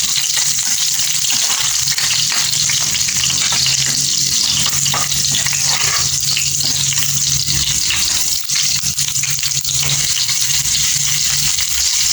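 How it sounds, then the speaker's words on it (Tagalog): Pork skin sautéing in a hot pan, a loud, continuous close sizzle and crackle with bursts of spattering and no voices. "Gigisahin natin lang yan guys"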